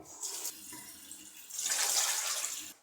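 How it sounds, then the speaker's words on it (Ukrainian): Cold tap water pours steadily into a cooking pot holding a pork shank, the flow rushing louder in the second half and continuing alone without talk. "Цього разу заливаю вже холодною водою."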